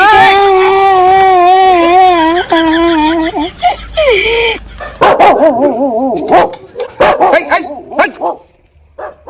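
A dog barks in a Bengali comedy drama scene, with sharp yips and barks in the second half following a long wailing, crying human voice.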